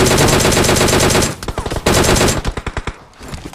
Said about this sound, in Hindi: अब यार मैं इस बॉट को मार ही रहा होता हूँ, और इतने में मुझे पीछे से एक बंदे का फायर आता है।